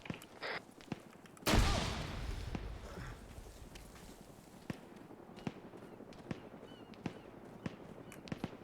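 A frag grenade detonates in a video game with a sudden loud blast that rumbles and decays over about two seconds, followed by scattered sharp clicks and light footstep-like taps.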